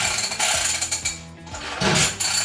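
Someone tries to start an old dirt bike, giving repeated mechanical cranking and rattling bursts in uneven pulses, loud and close, with no catch into a running engine.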